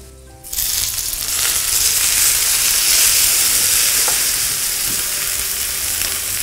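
Water poured into a hot pan of pan-fried vegetarian gyoza dumplings erupts into a loud, sudden roaring sizzle that holds steady and slowly eases, close up with no voices.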